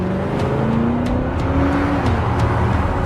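A car engine revving and accelerating harder and harder, a loud close whine that climbs steadily in pitch with gear-like steps and rushing road noise.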